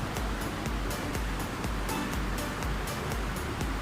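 Bubong Falls at Barangay Bahian pours into a pool, a loud, broad and steady rush of falling water close by, with no one speaking.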